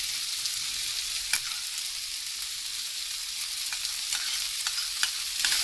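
Schezwan sauce and rice being stir-fried in a pan, a steady hissing sizzle with a few sharp scraping clicks of the spatula, close and continuous with no voices.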